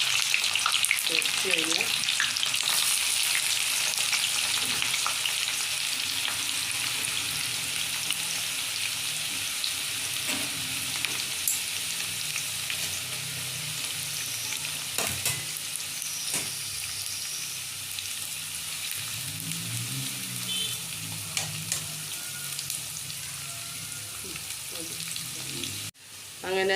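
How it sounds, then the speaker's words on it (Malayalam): Sliced onions frying in hot oil for a Hyderabadi chicken dum biryani, a loud continuous sizzle throughout with occasional stirring and someone talking over it. "അങ്ങനെ എണ്ണ ചൂടായിട്ടുണ്ട്. നമുക്ക് സവാള എണ്ണയിലേക്ക് ഇടാവേ."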